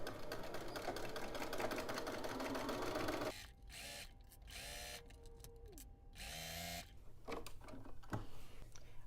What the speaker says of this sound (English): So let's head over to the machine and go ahead and stitch down our front pockets.